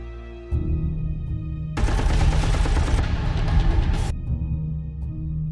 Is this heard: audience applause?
no